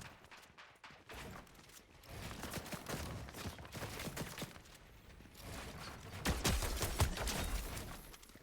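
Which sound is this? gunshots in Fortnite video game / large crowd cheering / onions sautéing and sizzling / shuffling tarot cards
gunshots in Fortnite video game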